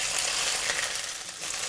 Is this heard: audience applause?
no